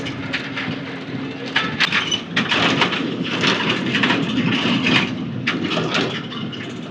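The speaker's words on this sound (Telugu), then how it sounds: "వర్షం అయితే స్టార్ట్ అయింది, చినుకులు పడుతున్నాయి అప్పుడే." Light drizzle begins falling in the hills of Araku Valley near the railway station, a steady soft hiss of rain with scattered patters and a low rumble underneath, no voices present.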